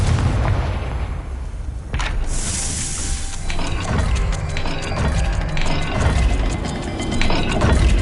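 A Confringo spell blast in the game Hogwarts Legacy, a sharp booming impact with crackling debris and mechanical clatter, loud and close, followed by rumbling reverberation.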